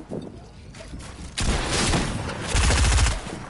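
Loud bursts of video-game gunfire, starting with a quiet stretch and then building into sustained, heavy shooting with a booming peak before it eases slightly.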